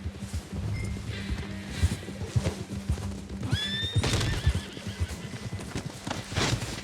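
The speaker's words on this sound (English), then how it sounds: "Thank you, horse, for treading it for me." A horse in the Red Dead Redemption 2 video game whinnies loudly and snorts while its hooves clip-clop steadily on the ground, fairly close, with a faint rustle around it.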